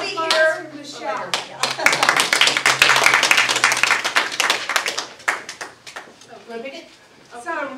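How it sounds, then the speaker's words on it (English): An audience claps in a small community gathering: a burst of applause swells and fades, while people talk before and after it. "So another round of applause."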